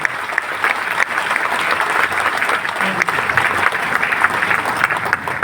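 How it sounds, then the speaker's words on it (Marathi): An audience at a speech program claps loudly and continuously, a dense, even wash of applause filling the whole stretch with no pause. "एकदा जोरदार टाळ्या"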